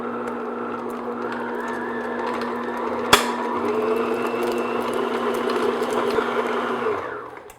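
An electric mixer beats unsalted butter at medium speed, a steady whirring drone with a constant hum that runs nearly the whole time, broken by one sharp click partway through before the motor winds down at the end.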